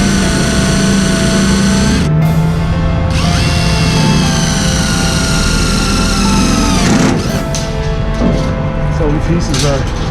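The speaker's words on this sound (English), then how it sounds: "because I'm going into metal, I have a self-tapping screw, which means the self-tapping screw, it bores a hole first" A power drill driving a self-tapping screw into metal on an insulation foam board job from a boom lift, loud and close, with a steady whining motor pitch that rises and shifts, briefly stops, then starts again.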